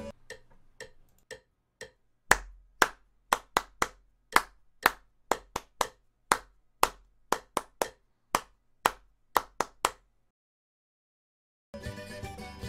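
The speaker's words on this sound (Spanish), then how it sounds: "Recuerda hacer el ritmo con las palmas," Hands clap a rhythm alone in a quiet room, sharp separate claps, sparse and soft at first, then louder and in a steady pattern, before a pause and a short burst of other sound at the end.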